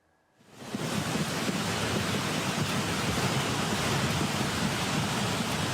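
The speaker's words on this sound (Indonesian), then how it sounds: "Arus air yang membesar terlihat menghanyutkan potongan kayu dan batu-batu berukuran besar" A flash-flood torrent surges through, carrying wood and large rocks, its dense, roaring rush swelling in after a quiet start and holding steady and loud with no voices.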